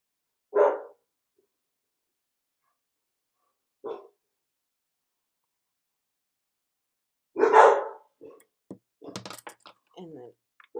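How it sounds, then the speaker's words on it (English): Two dogs give short, sharp barks, with isolated yaps at first and then a louder burst of barking, inside a quiet room. Scattered knocks and brief voice fragments follow near the end. "Now they're both going to bark"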